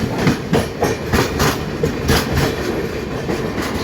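A long-distance passenger train from Goa to Kolkata via Mumbai rumbles along the rails, loud and close from on board, with a regular clickety-clack of wheels over rail joints and no talk.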